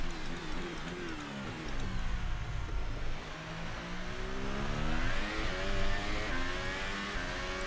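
A Formula 1 car engine at full throttle in the F1 2018 video game, with a steady, loud high-pitched whine that climbs and drops through gear changes, continuous and unbroken with no talk.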